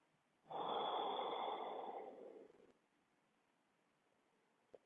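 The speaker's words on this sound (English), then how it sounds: "Taking a breath here." A person takes a deep breath during a recovery yoga session, one long, airy breath lasting about two seconds that fades out, followed by quiet and a tiny click.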